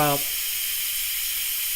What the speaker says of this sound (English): So we're gonna sit here, wait, the steam will get out.